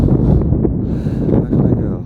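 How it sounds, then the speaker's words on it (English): Strong gusts of roughly 40 km/h at night buffet a phone's microphone, producing a loud, close, low rumbling roar that swells and dips throughout. "I don't know if it's coming out alright because of the wind, and I'm using my phone as a microphone"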